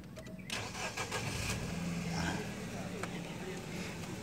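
A Nissan X-Trail engine cranks and catches, then settles into a smooth, steady idle close by, with faint background noise.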